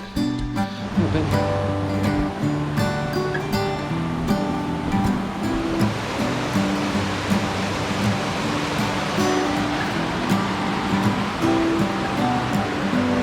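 A small waterfall beside an Adirondack hiking trail near Marcy Dam gives a steady, broad rushing roar of falling water that stays loud throughout. Indistinct voices are heard faintly beneath the roar early on.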